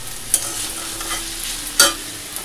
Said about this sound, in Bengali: এদিকে ভাজা বসিয়েছি, ডাল হয়ে গেছে, এটাতে ডাল ফোড়ন দেবো।